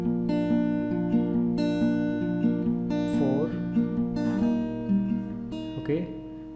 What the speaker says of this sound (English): you can hear this hammer on